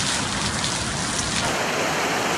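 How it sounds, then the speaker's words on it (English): Summer storm rain falls heavily in West Virginia, a loud, dense and steady hiss of drops on surfaces with no pauses or voices. "It's a familiar sound in the summer. Rain and thunderstorms are common in West Virginia"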